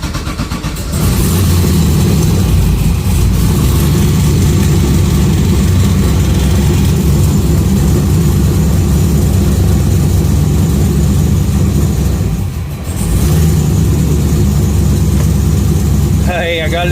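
A car engine, sitting in neutral, runs loud and close in a steady rough idle that briefly dips midway before settling again.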